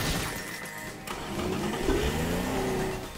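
A car engine revving in the video game Teardown, a stolen Lamborghini getting stuck and then breaking free: a loud, close engine whose pitch rises and falls in sweeping revs, with a crunching clatter early on and a sustained roar throughout.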